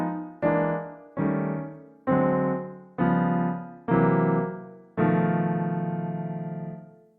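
A chain of dominant seventh flat five chords sliding down chromatically by half tones, each struck crisply and decaying before the next, the last one held and ringing longer; no talking.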